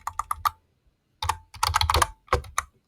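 Rapid bursts of keystrokes on a computer keyboard while code is entered, close and clear, with a short pause before more clusters of typing.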